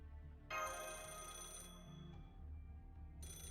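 A telephone ringtone in the Fate/Grand Order video game rings out abruptly, a bright electronic trill that sounds for about a second, pauses, and starts again, over a low steady game music bed.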